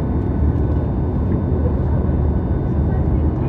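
Steady, loud engine drone inside a Japan Transocean Air airliner cabin on a flight from Miyako to Naha, a constant low roar filling the whole stretch without pause.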